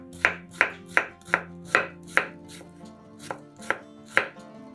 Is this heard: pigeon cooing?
no